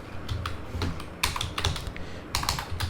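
Quick, uneven clusters of key clicks on a computer keyboard, close and fairly quiet, coming in short bursts with brief pauses between them.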